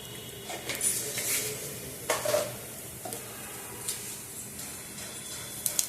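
Mustard seeds, cumin and asafoetida sizzle in hot oil for a tempering, a steady frying hiss broken by sharp crackling pops and stirring clinks from a pan, close up with no voices.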